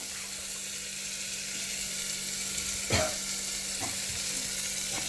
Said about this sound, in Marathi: हे बघा छान कांदा आणि टोमॅटो सगळं परतत आहे.